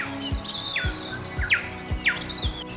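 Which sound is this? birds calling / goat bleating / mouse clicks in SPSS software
birds calling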